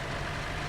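A tractor engine in an Indian theft-auto style video game gives a loud, steady idling rumble that holds evenly through a brief moment.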